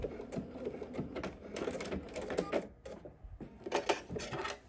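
Sewing machine stitching a seam on ponte knit pants, then backstitching, with busy rapid mechanical clatter in short bursts and brief pauses, recorded up close.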